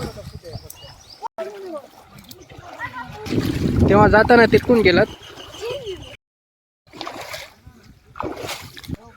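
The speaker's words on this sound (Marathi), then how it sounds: "आता सगळेजण आता काय हे नदी ओलांडणार आहेत" Splashing water as people wade through a river, with several voices talking and calling out over the sloshing, plus a few bird-like chirps.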